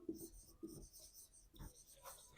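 Chalk or a marker writes a physics definition on a board, giving a few short, faint scratching strokes separated by brief pauses.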